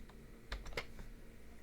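A few quiet keyboard clicks tap out over about a second, with faint room hum between them and no voices.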